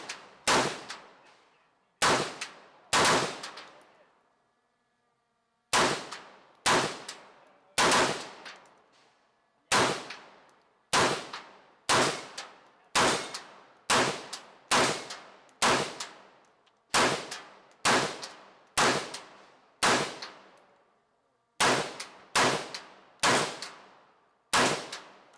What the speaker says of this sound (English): Shooting these 4-inch steel plates at 50 yards proved to be quite a challenge.